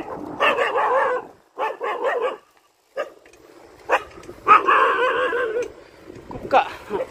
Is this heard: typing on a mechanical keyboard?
no